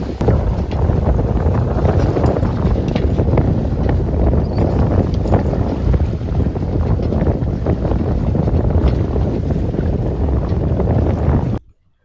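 A sailboat moving fast at about seven knots on a solo camping trip, with loud, continuous wind rushing over the microphone and water hissing past the hull, steady throughout before cutting out abruptly at the end.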